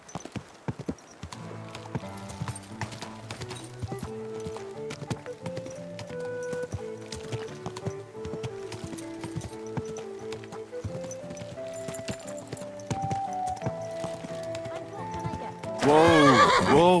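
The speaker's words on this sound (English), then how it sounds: "Easy, good horse." A horse neighs and its hooves clip-clop at an unhurried pace, nearby, beneath a sustained melodic music score, with a loud swell of sound at the very end.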